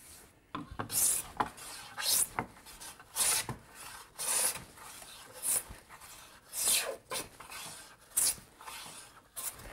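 Hand bench plane with an old-fashioned low front knob taking shavings off the humped middle of a wooden board, a series of about eight rasping strokes at a steady rhythm, close and fairly loud with no talking.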